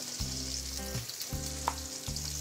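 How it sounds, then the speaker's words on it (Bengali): Chopped onion and ginger-garlic paste fry in hot oil in a pan, giving a steady close sizzle with a repeating low hum underneath. "এখন এই পেঁয়াজ আর আদা রসুনটাকে আমি একটু রান্না করে নিচ্ছি"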